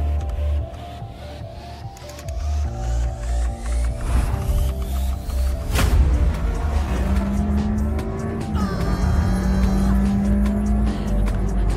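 Racing cars roar past in a film scene, a loud sustained engine drone with a sharp whoosh of a car passing and a long squeal of tires, mixed with music and effects.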